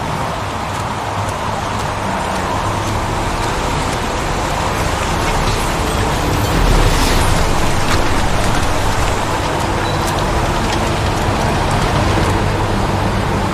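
Steady rain hiss fills a street scene in the video game Heavy Rain, with a low rumble of passing traffic beneath it and a slight swell in loudness past the midpoint.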